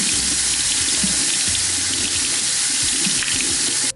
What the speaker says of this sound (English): I'm actually gonna make these beauty blenders wet before I fill the glass with water